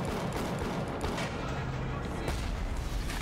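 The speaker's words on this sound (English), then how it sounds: "I'm gonna shoot this thing 5 times" Rapid gunfire from a weapon in BioShock, dense continuous shots with loud booming low end, filling the whole moment with no pauses.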